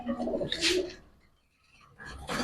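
Giribaz and fancy pigeons cooing close by at a pigeon sale, two soft throaty bursts separated by a brief quiet pause.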